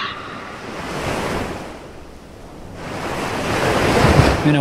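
Ocean waves washing onto the shore, a steady broad roar that swells, dips and builds again, with wind buffeting the microphone and no voices.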